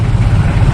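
The diesel engine of a neighbouring Mitsubishi L300 idles just outside a Toyota Kijang LGX with the window cracked open. It gives a loud, steady low rumble with a rhythmic chug, heard briefly and alone.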